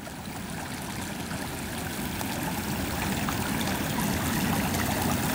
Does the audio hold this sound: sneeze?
no